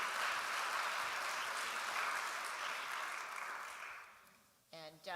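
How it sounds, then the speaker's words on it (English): A room of attendees at a women's organization fall event gives a guest another round of applause, a steady wash of clapping that tapers off before a voice starts speaking at the end. "Let's give Gil another round of applause"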